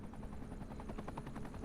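A fire helicopter in the city-building game Cities Skylines 2, its rotor thumping in a steady rapid chop, faint and brief with no talk.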